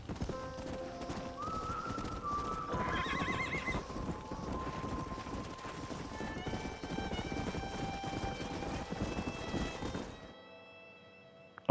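A stallion in Red Dead Redemption trots with steady clip-clop hoofbeats and lets out a clear whinny partway through, mixed with game ambience before cutting to near-silence at the end.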